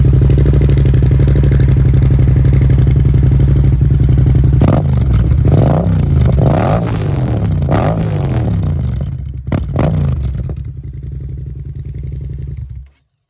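A motorcycle fitted with an Akrapovic exhaust line runs loudly at a steady idle up close, then revs in several rising and falling blips before the engine cuts off abruptly at the end.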